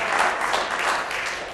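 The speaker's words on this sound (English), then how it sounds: "Asaf, give a round of applause to Asaf because he's doing really a great job" A conference audience at an Israeli dealmakers summit before the closing bell claps in brief, dense, steady applause that fades slightly at the end.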